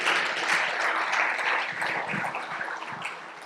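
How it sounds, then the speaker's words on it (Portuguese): Church congregation applauding during a sermon, a dense, steady wash of many hands clapping at moderate volume that fades slightly toward the end. "Pode aplaudir, pode aplaudir."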